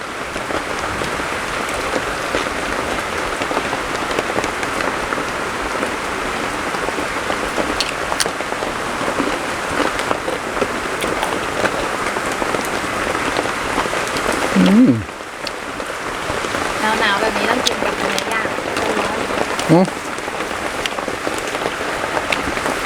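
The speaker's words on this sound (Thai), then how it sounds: "ฝนมาอีกแล้วพี่น้อง" Steady rain patters heavily on a surface, a continuous dense hiss that holds throughout with only a brief dip midway.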